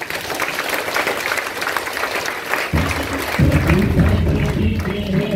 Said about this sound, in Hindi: एक बार दोनों हाथ उठा के ताली बजा दीजिए।